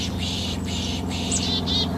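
A person imitates an insect-like noise to draw birds out, making a series of repeated hissing, pishing bursts over a low steady background hum, with no talking.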